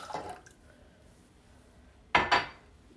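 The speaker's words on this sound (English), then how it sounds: "Going to add my water." Water is poured into a pot of melted butter for churro dough, a brief splash at the start and a louder pouring burst near the end, with no talk.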